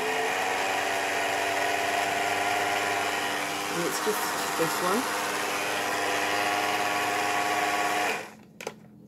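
An electric blender whirring steadily as it mixes cacao with water, a loud constant motor drone that winds down near the end, with a brief spoken remark partway through.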